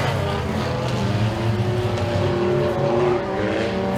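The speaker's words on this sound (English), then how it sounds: "Nicholas Reed's going to pick up the win" Dirt track race cars roar around Eriez Speedway in a heat race on the final lap, a dense continuous engine drone with several cars blending together, loud and steady throughout.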